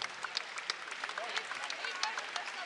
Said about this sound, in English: A huge round of applause here from the Curb Event Center crowd as Sam Alajiki is attended to.